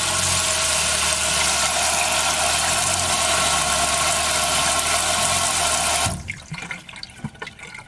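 Cold water gushes steadily from a tap into a sink inside a Roadtrek camper van, a loud continuous hiss with a low engine-like hum beneath, cutting off abruptly near the end to leave quiet clatter.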